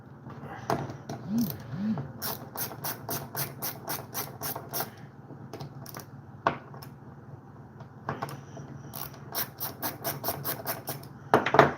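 A screwdriver backing long screws out of the front of a chainsaw carburetor, rapid ratcheting clicks in repeated bursts, close and moderately loud, with brief pauses and light handling knocks between them.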